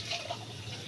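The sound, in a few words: water being poured in to prepare milk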